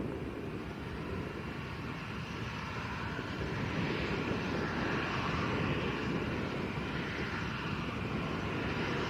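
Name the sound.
aircraft departing Lanzarote Arrecife Airport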